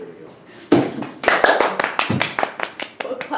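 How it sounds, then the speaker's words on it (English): A small group claps briefly after a dance move demonstrated in a school setting, with sharp irregular hand claps starting after a quiet moment and continuing close by amid some talk. "We'll clap for you."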